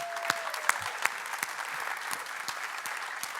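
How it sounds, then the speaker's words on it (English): Audience applause at a culture summit in Abu Dhabi for a performing music group: steady clapping with a few sharp, distinct claps popping out near the front, continuous for several seconds. "Let's give them a round of applause."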